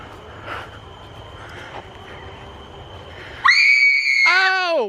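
On a vintage haunted dark ride, the Scary Train at Kirby Family Farm, a quiet rumbling stretch gives way to a sudden, loud, shrill scream close by that wavers in pitch for over a second.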